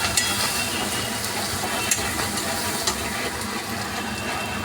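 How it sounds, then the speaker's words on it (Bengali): A spice paste of ground coriander, cumin, onion paste and garlic paste fries in a pan, giving a steady close sizzle with scattered stirring scrapes and light ticks. "এই মশলাটাকে একটু কষিয়ে নেব।"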